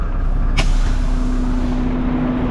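On a garbage truck with a Curotto Can, the air brake gives one short, sharp pneumatic hiss while the engine idles steadily beneath, followed by a lingering low hum.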